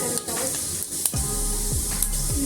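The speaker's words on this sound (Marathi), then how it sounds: "मी इथे एक टेबल तेल घेतलेला आहे आपण आता याच्यामध्ये जिरी ॲड" Cumin seeds crackle and sizzle in a tablespoon of hot oil for a spicy rustic fenugreek (methi) curry, a steady close frying hiss with a few sharp pops, no talking.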